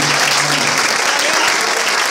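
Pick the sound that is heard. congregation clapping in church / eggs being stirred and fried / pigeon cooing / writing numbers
congregation clapping in church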